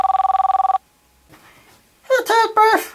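A phone rings on an outgoing call with a fast buzzing ring pulse lasting under a second, then goes quiet with faint hiss before a voice begins speaking.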